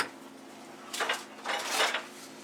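A metal baking sheet being handled in a home kitchen, making two brief clattering scrapes about half a second apart, close and moderately loud, with no voices.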